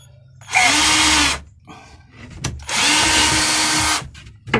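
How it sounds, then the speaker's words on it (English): A power drill bores holes into wood for a planter in two loud, sustained bursts close by, with quiet handling noises and small knocks in between. "Drill the holes first, and then we can screw it all together."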